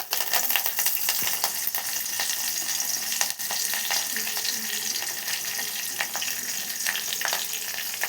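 Crushed garlic and curry leaves fry in hot oil in a pan, giving a close, steady sizzle with crackling pops and occasional stirring scrapes throughout.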